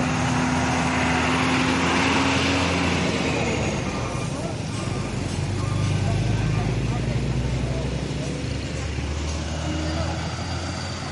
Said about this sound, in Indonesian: Ini ada truk Fuso.